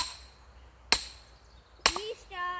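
A big hammer strikes wood to split it, giving two sharp, heavy, close-up impacts about a second apart, followed by a brief voice.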